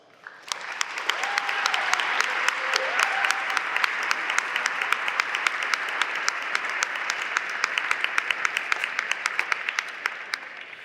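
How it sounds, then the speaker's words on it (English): Audience applause at a university honors day ceremony, a dense, steady round of clapping from a large crowd that rises quickly and holds for about ten seconds, with some sharper individual claps standing out. "join me in congratulating these students with a round of applause"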